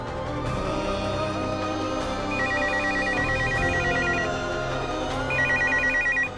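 A phone rings in two bursts of rapid electronic trilling tones over a layered musical background, with no talking.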